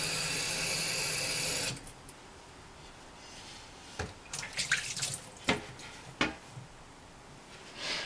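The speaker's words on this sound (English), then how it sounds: "Let me rinse this out right quick." Running water from a tap rinses something out in a kitchen, a loud steady gush at first, then stopping, followed by scattered drips, clunks and handling noises.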